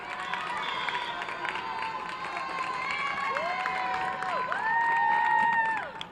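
A gym crowd at a high school varsity volleyball match between Revere and Chelsea cheers and shouts, with squeaking sneakers and rising excitement, the noise building toward the end before easing off.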